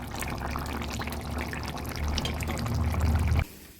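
Fish curry simmered with winter vegetables and topped with chopped coriander is poured out for serving, a steady, close liquid pour that swells toward the end and stops abruptly, with no talking.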